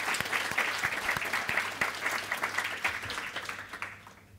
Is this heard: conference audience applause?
yes